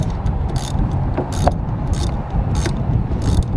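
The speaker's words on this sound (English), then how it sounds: "we're just screwing that down" Windshield wiper linkage being screwed down on a Chevrolet HHR, giving soft mechanical ratcheting clicks in short bursts over a steady low background rumble, fairly close, with no talk.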